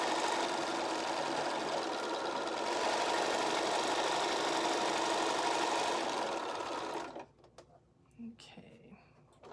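A sewing machine running a continuous quarter-inch seam along a quilt block edge, a steady loud close whirring hum that stops abruptly near the end, followed by quiet handling and a soft voice.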